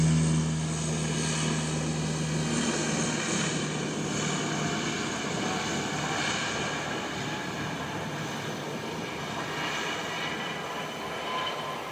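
An aircraft takes off from the runway at Wellington Airport, a loud continuous roar that slowly eases as it climbs away.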